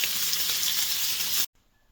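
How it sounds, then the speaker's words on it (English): Bacon sizzling in a pan while a loaded burger is cooked, giving a steady, close crackling fry that holds even for over a second before cutting off abruptly to near silence. "So the bacon's going, that's sizzling away."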